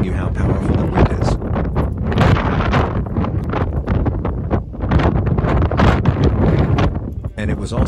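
Strong gusty wind buffets the microphone near the islands off Sasebo in Japan, a loud rough roar that surges and dips for several seconds, with speech faint underneath.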